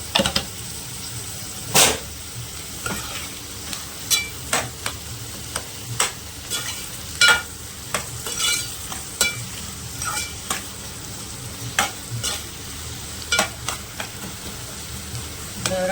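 Onion fries in a pan with a steady hiss, punctuated throughout by repeated sharp scraping clicks of a spoon stirring against the metal.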